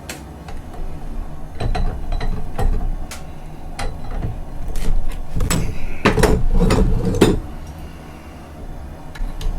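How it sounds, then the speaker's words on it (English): Hot forged steel bar clamped in a vise and twisted by hand, giving scattered metallic clinks, ticks and creaks at close range, with a denser cluster of clanks near the end and no speech. "I'm going to grab it, run in here, put it in the vise, and try this twist."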